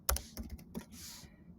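Keyboard keys tapped in a short irregular burst while a patient's name is entered into nutrition software, several quick clicks up close, with no talk over them.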